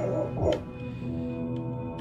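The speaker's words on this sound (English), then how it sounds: "The barking." A dog in the game Fight Knight barks and yips in a few short bursts, close and fairly loud, over a steady tonal music bed.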